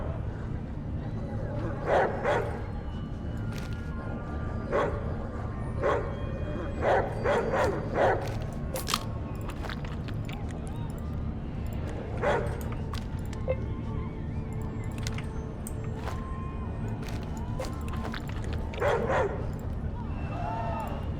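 In the ATOM RPG video game, dogs fight with scattered bursts of barking, yipping and whimpering spread across the stretch, over a constant droning game backdrop.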